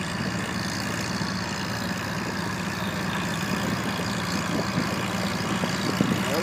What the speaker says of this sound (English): Joe on Grandpa's First Tractor.